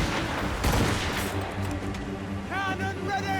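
Ship cannons boom in a naval battle in Assassin's Creed Rogue, a rumbling volley of shots under a busy game soundscape of music and effects, with a crewman's voice shouting briefly near the end.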